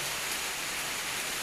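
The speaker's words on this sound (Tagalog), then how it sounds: "Lakas ng ulan" Dense, steady rain hisses evenly throughout, a broad wash of falling water with no other sounds standing out.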